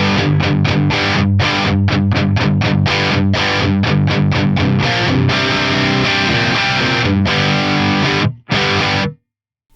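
Heavily distorted electric guitar through a Recto-style amp model on an Axe-Fx III, playing loud, tight palm-muted chugs and rhythmic stabs with brief gaps, then cutting to silence at the end.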